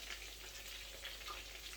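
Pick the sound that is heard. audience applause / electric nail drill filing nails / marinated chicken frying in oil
marinated chicken frying in oil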